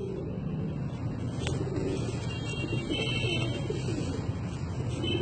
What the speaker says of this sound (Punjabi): ਇਹ ਦੇਖ ਰਹੇ ਹੋ ਜੀ ਕਬੂਤਰ ਸਾਡਾ ਕਾਲੇ ਮੂੰਹ ਵਾਲਾ ਬਟੇਰਾ ਜੇ